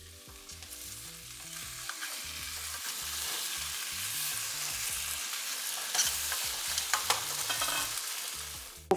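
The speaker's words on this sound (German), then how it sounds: "Zwischendurch müssen wir auch die Kartoffeln noch einmal umrühren, weil sonst pappen die halt zu sehr an." Potatoes being stirred in an Omnia stovetop oven pan, with a steady scraping, rustling stir over a constant soft sizzle and a few sharper clicks near the end, close and fairly quiet.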